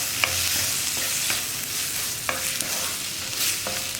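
A spoon scrapes and stirs chopped tomatoes into a sizzling pan of potato tomato curry, with a few distinct knocks against the pan over a soft, continuous frying hiss.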